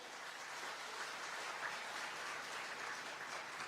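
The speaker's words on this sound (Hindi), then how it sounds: "आदरणीय श्री अभय सिंह जी विधायक जी, एक बार उनके लिए जोरदार ताली बजाइए" An audience at a Shrimad Bhagwat Katha religious gathering claps, a faint, dense, continuous patter of applause sustained evenly from start to end.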